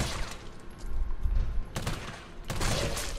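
Resident Evil 3 gameplay gunfire: a few short bursts of sharp shots crack out at moderate to low volume, separated by quieter gaps of game ambience.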